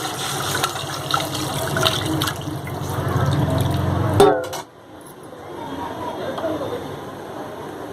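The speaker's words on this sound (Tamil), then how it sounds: "புளி தண்ணியை ஊற்றிக்கலாம்." Tamarind water pours steadily into a pot of rasam for a few seconds, then stops with a clunk, followed by quieter bubbling and kitchen noise.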